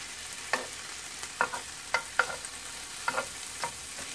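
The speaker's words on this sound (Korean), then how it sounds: "베이컨 익는 향이 너무 좋네요." Bacon fries in a pan while a utensil stirs and scrapes it in sharp, irregular clinks and scuffs over a steady low sizzle. The sound is close and moderately quiet, with no voices.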